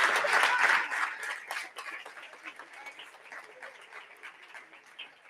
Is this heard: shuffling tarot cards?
no